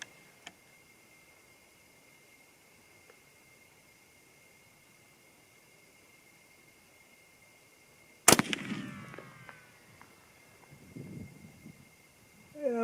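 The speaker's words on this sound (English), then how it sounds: "let's see how it does with these first 3 shots at 100 yards" A single sharp, loud crack from an 8x57mm (8mm Mauser) test rifle fitted with a DiscoveryOPT 3-15x50 scope, fired at a 100-yard target, breaks a long quiet stretch and rings out briefly before scattered handling noise.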